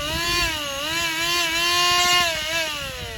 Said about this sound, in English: Here's the right angle die grinder.